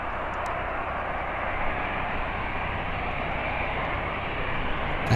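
Aircraft engine roar at Birmingham Airport, a steady broad rumble and hiss heard from a moderate distance, constant and unbroken for several seconds with no talk.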